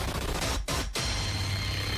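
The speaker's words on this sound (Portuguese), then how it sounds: "Olha o tiro." A dense burst of gunfire crackles continuously, sharp and harsh, with two brief breaks, sounding like rapid repeated shots amid noisy surroundings during a clash between enforcement officers and street vendors.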